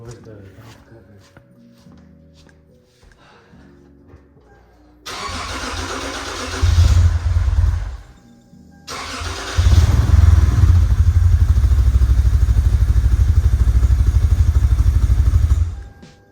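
A 2006-2013 Lexus IS350 cold-starts after valve cover gasket work with the throttle body sensor disconnected: a brief whirring crank, the engine catching into a rough, loud idle, dipping, then roaring again, close by, with some talk early on.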